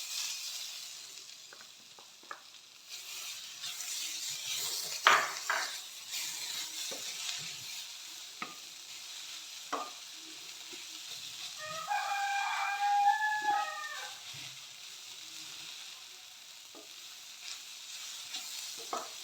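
Ginger paste and three cloves of garlic frying in a pan for chicken chatti pathiri; a quiet, continuous sizzle runs throughout with scattered stirring clicks, and a rooster crows faintly in the distance midway.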